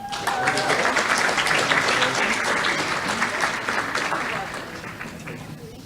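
Applause from an audience at a school board meeting honoring students, steady dense clapping that starts at once and holds throughout, tapering slightly toward the end, with a voice briefly audible beneath it.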